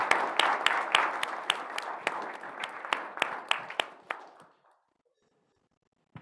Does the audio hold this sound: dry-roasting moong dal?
no